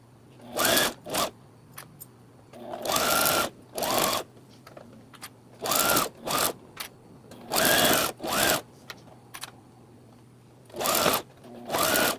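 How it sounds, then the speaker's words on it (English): A sewing machine runs in short bursts of rapid whirring stitching, stopping and starting repeatedly with quiet gaps between. "Morty, can you plug in my sewing machine?"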